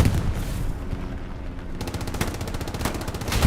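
Heavy gunfire and booming tank cannon rounds ring out on a battlefield around Carentan Train Station in the Hell Let Loose video game, with loud rumbling blasts and a rapid rattling burst of shots in the second half.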